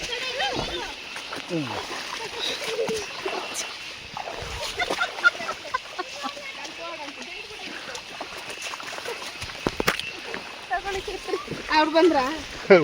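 Children splashing their feet in a shallow stream during a rainy-season outing in Sakleshpur, with light, irregular splashes and trickling water under frequent nearby talk and voices.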